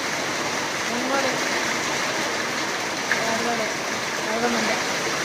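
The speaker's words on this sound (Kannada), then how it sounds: "ಫುಲ್ ಮಳೆ." Heavy rain falls in a constant loud wash of hiss and patter, with faint voices speaking softly beneath the downpour.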